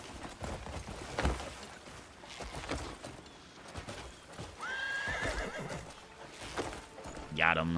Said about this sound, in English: That is a fresh horsey to tame.